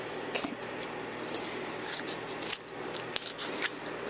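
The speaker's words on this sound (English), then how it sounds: "Scissor." Scissors snip through patterned craft paper from an older DCWV stack while papercrafting, giving a quick series of close, crisp cuts with small rustles between them.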